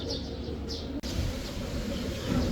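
Small caged birds at a mini zoo give a few faint, brief chirps at a distance over a low, steady background murmur.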